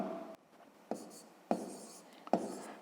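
Numbers being written by hand for a fifth-grade math exercise, heard as a few close, short scratchy pen strokes separated by brief pauses in a quiet room.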